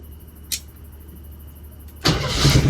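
A Jeep CJ7 engine under revival cranks and catches after a brief click and a short whir, bursting into a loud, close idle that swells as it settles.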